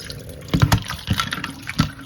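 Shrimp being rinsed under cool tap water, with a few short splashy bursts of running and sloshing water close by.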